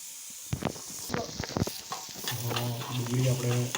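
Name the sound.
chopped onions sautéing in a pan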